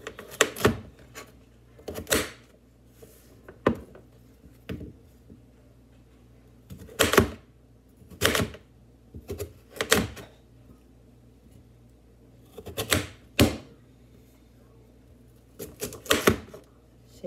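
A knife cuts London broil steak on a cutting board, making sharp irregular knocks in small clusters with quiet pauses between them, close and fairly crisp.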